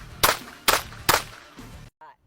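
Pistol shots at a shooting range, three sharp close bangs spaced about half a second apart, then a fainter fourth report fading into quiet.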